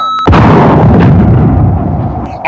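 A loud ejection cannon fires in a retro 1980s-style sci-fi movie: one sharp blast that swells into a long, rumbling explosion and fades away, with no talk over it.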